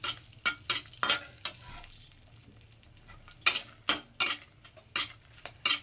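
Dry chillies and whole garam masala (cinnamon, cloves, cardamom) frying in butter and oil, with repeated scraping stirs and clinks of a spatula over a faint steady sizzle, close up.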